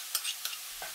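Dumpling filling being stirred in a wok, a few quick faint scrapes over a soft sizzle, close by and brief.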